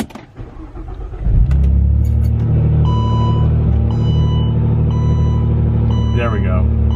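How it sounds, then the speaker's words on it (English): Saab 9-3 engine cranking and catching, then settling into a steady loud idle, with electronic chimes and beeps from the dashboard over it and a voice briefly near the end. "I'm actually gonna restart the car"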